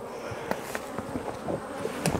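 Honey bees buzz around a hive being moved in a queenless colony, a close, moderate hum broken by soft knocks and handling bumps of wooden boxes over about two seconds.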